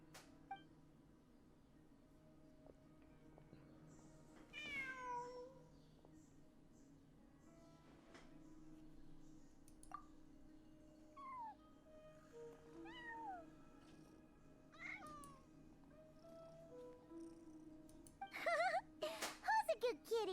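A cat meows several times in a house in Genshin Impact, with short rising and falling calls over a low, steady game background and a few soft beeps, growing busier toward the end.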